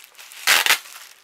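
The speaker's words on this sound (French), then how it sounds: "je vais ouvrir mon courrier" Fabric packaging on a piece of mail is unwrapped, giving one short, close crinkling rustle in two quick bursts between quiet moments.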